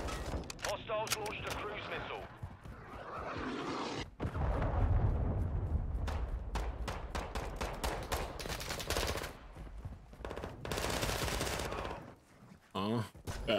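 Gunfire in Modern Warfare II, sustained rapid shots and bursts with explosive booms through the middle, a loud, dense combat soundscape that thins out toward the end, with a voice talking at points.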